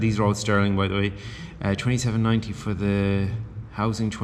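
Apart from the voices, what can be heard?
No everyday noises stand out.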